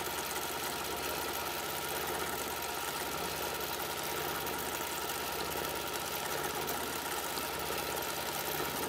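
A longarm quilting machine stitches freehand figure-eight patterns, giving a steady, even mechanical whirring hum that continues unbroken throughout at a moderate, close level, with no voices.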